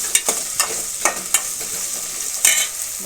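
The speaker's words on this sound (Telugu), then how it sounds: "వేసి ఇప్పుడు గట్టితో బాగా కలిపేస్తున్నాను." Cut okra pieces are stirred in a pan with a spatula for an okra pulusu curry, giving a steady light sizzle broken by about eight quick scraping strokes, with no talking.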